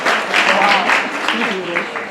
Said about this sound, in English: Oh, give her a warm round of applause.